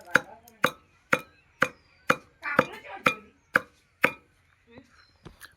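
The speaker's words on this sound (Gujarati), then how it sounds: "હજુ આ બધી બાજરી ટીચી નાખવાની।" Pearl millet is pounded by hand in a village kitchen, landing as about ten sharp, evenly spaced thuds roughly half a second apart, loud and close, with a softer scraping patch midway and faint tapping at the end.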